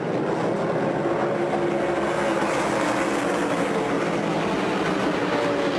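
NASCAR Whelen Modified race cars at New Hampshire Motor Speedway roar past in a steady, loud, continuous engine drone with a tonal whine. No break, no voices.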